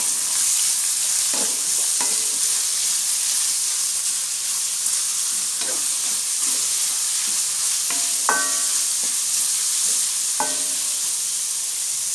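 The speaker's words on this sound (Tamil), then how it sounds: "வெங்காயம் நல்லா வதங்கட்டும்" Four onions sautéing in hot oil in a pan, a steady sizzle and hiss running throughout with occasional scrape-like stirring clicks, loud and close, no voices.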